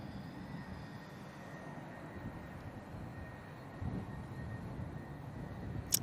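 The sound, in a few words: EasyJet airliner on its takeoff roll off runway 05 left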